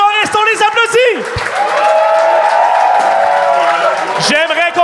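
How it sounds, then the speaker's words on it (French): Audience applause for comedians at a comedy show, a broad wash of clapping rising through the middle while a voice speaks and shouts over it near the start and end. "On les applaudit!"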